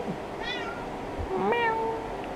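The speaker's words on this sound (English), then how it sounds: "decided to meow and climb into his lap" A cat meows twice, close and clear, the second call longer with a rising, drawn-out tone, over a steady low indoor hum.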